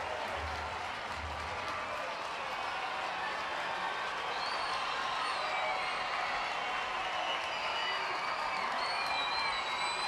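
A baseball crowd of nearly 10,000 at a Kane County Cougars game keeps up a broad, steady roar of cheering and applause throughout, with occasional whistles and whoops rising above it.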